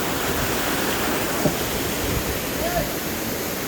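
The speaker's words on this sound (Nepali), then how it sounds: "पुरै ढुङ्गा भित्रबाट पानी आउँछ यार पुरा भित्रबाट पानी आउँछ हेर नि" Water gushes out from inside the rocks of a hillside, a loud, steady rushing roar that fills the whole stretch with broadband noise.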